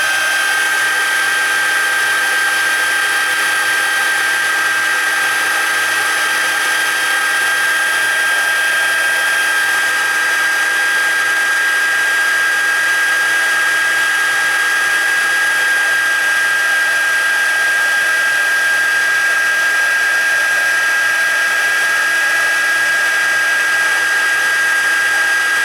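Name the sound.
embossing heat tool running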